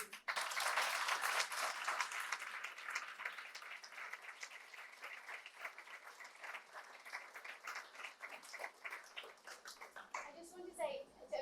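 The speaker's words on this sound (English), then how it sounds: "Could we have a big round of applause for all of our speakers?" Audience applause for the speakers at a student-run talks event, a dense, steady clapping wash that holds for most of the stretch and then thins out toward the end as a few voices come through.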